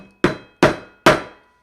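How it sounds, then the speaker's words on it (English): A hammer taps a leather key fob on a table three times in an even rhythm, each blow a sharp, close knock that rings out briefly before the next. "And then I'm going to take the hammer"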